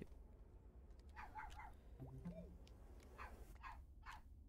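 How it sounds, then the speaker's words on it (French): A distant dog gives several short barks and yips, very faint and spaced apart over quiet background noise. "c'est mon chien qui est de l'autre côté."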